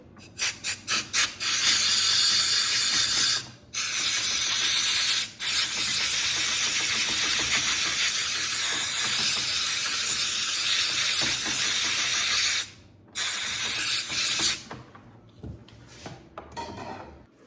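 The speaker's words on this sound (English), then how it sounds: "Close that choke. I'm gonna spray it out a little bit." A few short spurts are followed by long, loud hissing bursts of aerosol cleaner sprayed into the carburetor of a Husqvarna 136 chainsaw, broken by brief pauses, close by.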